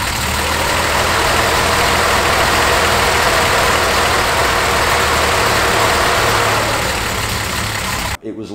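A Datsun 240Z with an L28 stroker engine and individual throttle bodies idles steadily and loudly, a continuous rumble with little change, cutting off abruptly near the end.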